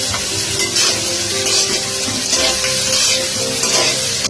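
Onions frying in a pan as a base for biryani, a steady close sizzle with occasional stirring scrapes running throughout, no voices.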